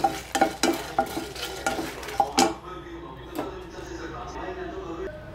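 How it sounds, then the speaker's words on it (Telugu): Whole spices (cumin, coriander seeds, dried red chillies, cinnamon and cloves) are dry roasted in a pan, with a series of clinking stirs and scrapes and then a softer rustle. "మసాలాలన్నీ ఇలా డ్రై రోస్ట్ చేసుకోవాలి ఒక 2 మినిట్స్"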